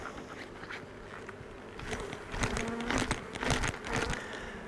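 Honeybees buzzing around an open hive during warm spring hive work, a close, steady insect drone that swells in places, mixed with light handling and crinkling noises.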